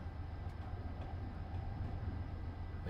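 A train in Train Simulator 2019 coasts into a station at about 18 miles an hour, a quiet, steady low rumble of wheels and carriages with no voices.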